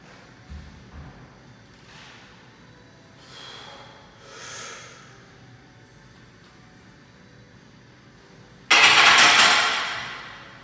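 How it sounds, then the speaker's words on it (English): A big, deep breath drawn into the chest before a bench press, heard as a sudden loud, rushing inhale near the end that fades slowly, after a few softer breaths and rustles. "Take a big, deep breath into your chest."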